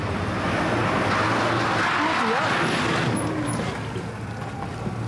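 A taxi cab pulls up along a road, with a close, steady engine and tyre rumble that swells and then eases, and muffled voices faintly underneath.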